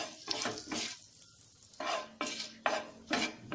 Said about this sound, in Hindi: अब हम डाल देंगे इसमें खड़े गरम मसाले, और इसे हम कुछ सेकेंड के लिए फ्राई कर लेते हैं।